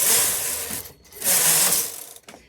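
Knitting machine carriage pushed across two rows while working a Fair Isle pattern, giving two loud, rattling mechanical passes with a brief pause between them and a quieter clack at the end.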